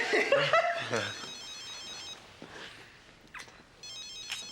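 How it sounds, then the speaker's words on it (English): A telephone rings in an indoor scene: a bright electronic ringtone sounds in two short bursts, first under people talking and chuckling, then again alone against quiet room tone. "I'm one of those people that has to answer the phone if it rings"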